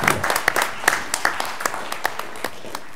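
A small group claps briefly at a city council meeting, a dozen or so scattered sharp claps that thin out over a few seconds.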